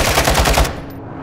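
Rapid automatic gunfire from a Call of Duty: Modern Warfare II multiplayer match, a loud close burst of about five shots in quick rhythm that cuts off sharply, leaving a short fading tail.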